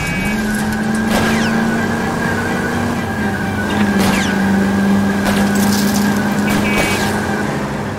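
Tires squeal and skid as cars race through a police pursuit in L.A. Noire, engines roaring steadily throughout with sharp screeches and a siren-like tone, loud and close.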